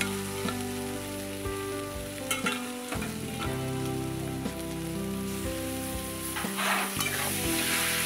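Crumbled catla fish fries in a pan as it is stirred, with a continuous close sizzle and crackle broken by repeated scraping and clattering strokes of the spatula.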